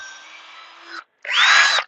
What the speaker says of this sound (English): So we got that one drilled, and then we'll drill this one over here.